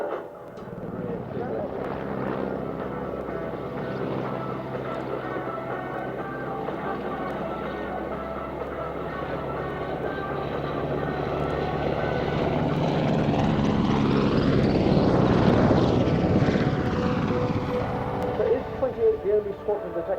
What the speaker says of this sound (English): The only squadron that's actually operating the Royal Air Force version of the Merlin.